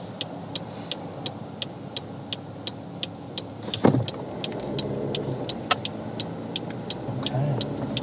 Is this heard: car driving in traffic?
yes